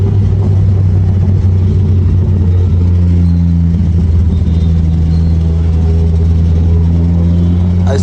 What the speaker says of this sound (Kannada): RPM ಯಾವ ತರ ರೇಸ್ ಆಗ್ತಿದೆ ಅಂತ ಹಿಂಗೆ ಮೇಲೆ ಕೆಳಗೆ ಕುಂದಾಡ್ತಿದೆ